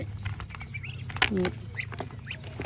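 Ducks quack a few times close by, short nasal calls mixed with people talking softly in the background.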